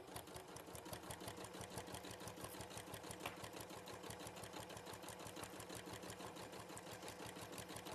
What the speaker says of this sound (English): we're going to take it to the machine and start, as I say, halfway down your quilt and start sewing down